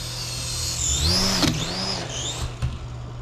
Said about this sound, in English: So up to start the motors and then back up to take off.